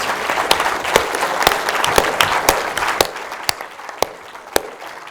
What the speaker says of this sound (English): I wonder if we could all give a huge clap to our half a dozen superb panelists